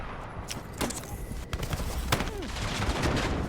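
Battlefield 6 gunfire, a scatter of sharp cracks and several separate shots over dense, continuous battle noise, moderately loud with no voice over them.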